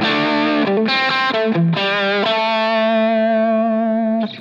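Distorted electric guitar through a Line 6 Helix cab modeled with a ribbon mic at 6.5 inches: a few quick picked notes, then a loud sustained chord ringing out rich and even, with no talking.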